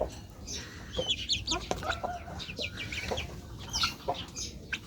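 Chickens in a backyard coop, with breeder hens and an empty chick pen: soft repeated clucking and chirpy calls, close and fairly quiet, steady over the whole span.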